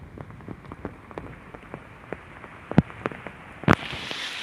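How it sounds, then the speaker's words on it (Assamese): Heavy rain pours down outdoors during a flood, with a steady dense patter on surfaces and a couple of sharper, louder drops or hits standing out near the end. "বহুত জোৰদাৰ বৰষুণ দি আছে"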